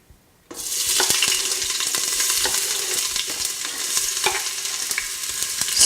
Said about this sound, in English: saute my onion, garlic and ginger mix so that it will release its flavor